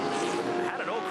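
A Camaro touring race car at turn 3 at Winton, a loud, steady engine roar held close throughout, with a brief tonal shift near the end as it gets crossed up, under a commentator's voice.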